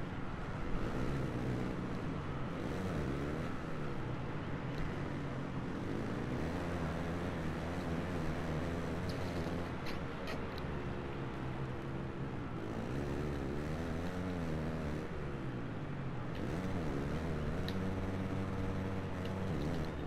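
Dirt bike engines snarl and rev hard in the Supercross 4 video game's race, a continuous layered buzz with rising and falling pitch sweeps as bikes accelerate over jumps.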